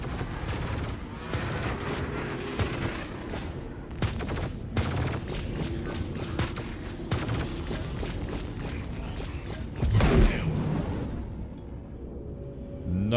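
Rapid bursts of ship-mounted guns fire during space combat in Star Citizen, sharp repeated volleys with mechanical clatter, loud and close, with a heavier burst near the end.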